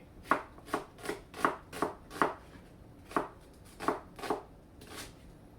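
A knife slices through cabbage on a cutting board for a stir fry, about eleven crisp, evenly spaced chops, close and clear with no talking.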